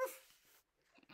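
A voice imitates a dog barking during a read-aloud of the children's turnip folk tale, giving a brief, breathy bark-like sound at the start followed by quieter murmurs and faint noise.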